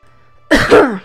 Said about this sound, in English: I gotta clear my throat for a second.